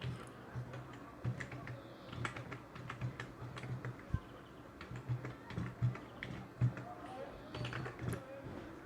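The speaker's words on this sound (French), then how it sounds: "Je vais commencer par taper ces nombres-là." Quick bursts of clicks on a computer keyboard as numbers are typed for a C++ array exercise, close and irregular, with brief pauses between runs of keystrokes.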